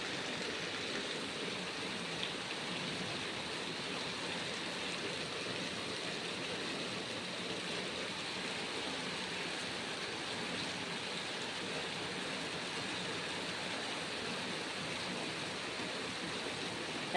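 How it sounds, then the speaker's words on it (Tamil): Rainwater runs along a flooded street as an even, unbroken rushing wash, fairly faint and steady from start to finish, with no talking. "பாருங்க வீதியிலெல்லாம் தண்ணி எப்படி போயிட்டுருக்குது."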